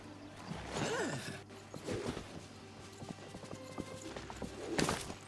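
Horse hooves clip-clop in the video game Disney Dreamlight Valley, with a run of quick, crisp steps and a short snort or whinny near the start and the end.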